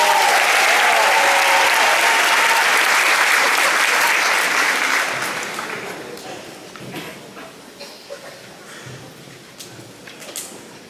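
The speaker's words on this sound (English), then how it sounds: "another round of applause" Loud, dense audience applause at a high school graduation ceremony, sustained for about five seconds before tapering into scattered clapping and faint crowd murmur.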